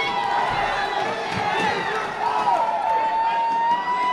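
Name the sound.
crowd cheering in boxing video game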